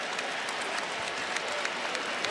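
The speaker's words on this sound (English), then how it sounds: "The fans behind are applauding" Basketball fans applauding courtside behind the bench at a pro game, a steady wash of clapping and crowd noise with scattered sharper claps, moderately loud and continuous.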